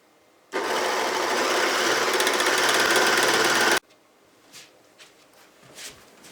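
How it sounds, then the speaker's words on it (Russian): A sewing machine stitches baby rompers made from a T-shirt, running in one loud, steady mechanical whir for about three seconds before stopping abruptly, followed by a few faint clicks and handling noises. "Продолжим шить наш ползунок."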